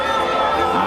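Crowd at a charrería rodeo tournament cheering and clapping, a dense, loud wash of voices and applause, heard briefly and continuously.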